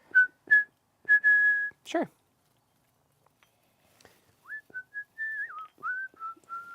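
A person whistles a short tune alone and close by: several brief steady notes, a short pause, then a longer run of sliding, wavering notes.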